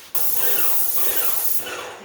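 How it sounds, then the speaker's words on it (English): Paint sprayer hissing as it coats interior trim and walls, a steady loud broadband spray starting abruptly after a brief quiet moment, sustained and close with a slight fade near the end. "I'm going to spray the trim, and then spray some of the walls in here"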